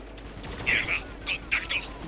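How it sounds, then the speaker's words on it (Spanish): Bursts of gunfire in the third-person shooter Spec Ops: The Line, a few short sharp volleys at moderate distance under the game's background hum. "¡Nos están acribillando!"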